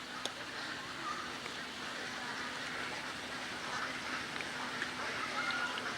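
Ducks quack outdoors in Athens, faint and scattered within a steady wash of broadband outdoor background noise.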